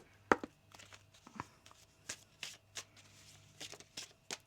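Tarot cards shuffled by hand in a tarot reading, with a series of quick papery riffles and soft slaps spread across several seconds, close and fairly quiet, with no talk over them.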